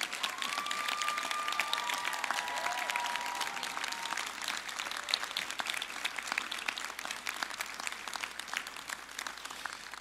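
Sustained applause from a large crowd for arts and culture, psychoeducation and psychology graduates at a university convocation ceremony in Gatineau, dense steady clapping throughout with a brief voice early on.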